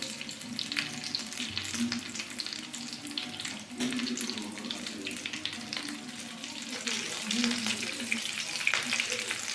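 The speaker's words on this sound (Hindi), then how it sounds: "तो देखिए यहाँ पे हम अच्छे से फ्राई कर लिए हैं एकदम गोल्डन ब्राउन होने तक।" Egg lollipops fry in a pan of oil with a steady dense sizzle and crackle throughout, close and continuous.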